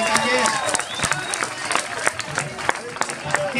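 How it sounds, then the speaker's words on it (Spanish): Scattered audience clapping and crowd noise at a rap battle event, moderately loud, with sharp individual claps over a murmuring crowd. "Un aplauso, güey."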